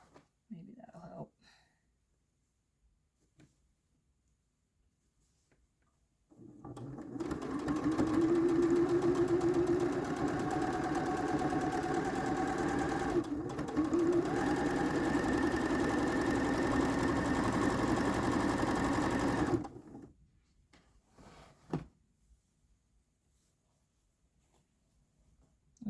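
A sewing machine stitching a Halloween-themed quilt runs in one continuous steady whir for about thirteen seconds, with brief handling noises before and after it.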